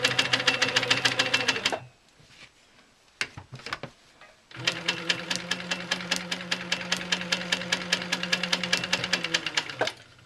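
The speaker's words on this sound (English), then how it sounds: "I'm going to leave it and stitch in the ditch up and around to the next area." A sewing machine stitches in the ditch on a quilt block, its rapid, steady needle chatter running close and loud, pausing briefly for a few handling clicks, then resuming at the same even pace until stopping.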